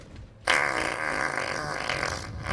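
A hand-made imitation fart, a sudden loud wet flapping burst starting after a brief quiet moment and sustained close to the mic for about two seconds.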